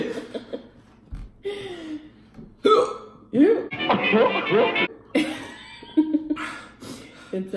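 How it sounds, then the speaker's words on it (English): A person hiccups and coughs after eating extremely hot chocolate, with abrupt throaty gulps mixed with strained laughter and chuckling, close to the microphone, among bursts of talk. "No, it's just a hiccup."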